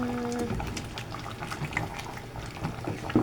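A pot of chicken and sausage with potatoes, carrots and peanut butter bubbles at a boil, a low, faint, continuous burbling with small pops, close by and without talk.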